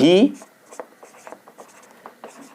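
Chalk or marker writing on a board during a classroom grammar lesson, a run of short scratchy strokes coming in irregular bursts, close and fairly faint after a brief louder sound at the start, with no talk over it.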